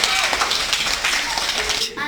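Schoolchildren clap for their classmates in a classroom, a quick scattered burst of hand claps heard close by, with voices talking over it and the clapping cutting off near the end.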